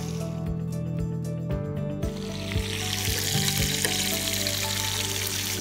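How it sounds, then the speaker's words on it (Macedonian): Chicken meat frying in a pan, a steady close sizzle with crackling spatters and occasional utensil knocks, continuous with no talk. "Месото да се пропржи"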